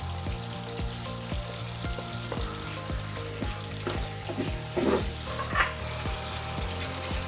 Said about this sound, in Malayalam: നമുക്ക് തേങ്ങാക്കൊത്തും മുളകും കൂടെ വറുത്ത് ഇതിനകത്ത് ചേർത്ത് കൊടുക്കാം